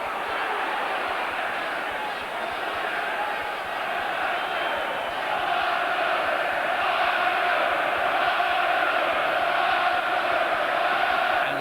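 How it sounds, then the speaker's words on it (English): Boxing arena crowd at a professional fight roars continuously and loudly, a dense sustained wall of cheering that swells slightly toward the end, with commentary voices underneath. "Crowd roaring now for Ben."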